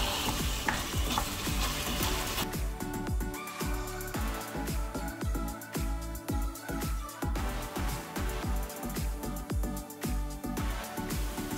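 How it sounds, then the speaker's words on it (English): Pork sizzles in olive oil inside a Martha Stewart Dutch oven, a loud close crackle broken by repeated rhythmic scraping and stirring strokes throughout, with no talking. "So I just added some olive oil and my pork to the Dutch oven, and I am going to cook that all the way through"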